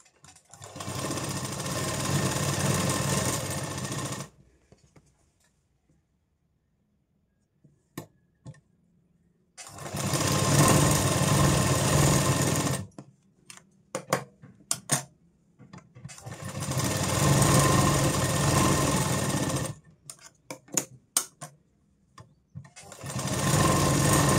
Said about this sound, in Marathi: इथे मी दोन्ही पार्टला शिलाई मारून घेणार आहे